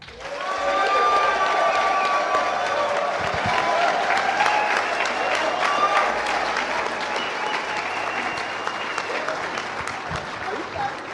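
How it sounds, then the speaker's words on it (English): An audience at a UFO conference applauds loudly and steadily for about eleven seconds, a dense, close wash of clapping that fades slightly toward the end. "what are they applauding for?"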